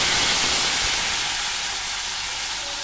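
Potato pieces fry in hot oil, giving off a loud, continuous, close hiss that barely changes from start to finish.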